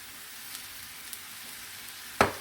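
Thin steak slices seasoned with salt, pepper and garlic powder sizzle in a pan, a low steady frying hiss with a few faint ticks and one sharp, loud crackle near the end, with no talking.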